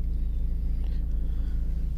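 A 2005 Audi A4 1.8T idles cold through a newly fitted exhaust, giving a steady, low, even rumble close by with no voices over it.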